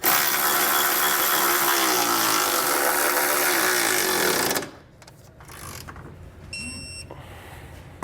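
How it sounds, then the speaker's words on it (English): Tightening trailer hitch bolts on a 2020 Hyundai Palisade with a 17mm socket, a loud continuous power-tool whir lasting several seconds, then stopping abruptly into quiet with faint metallic clicks. "We're going to tighten using a 17mm socket."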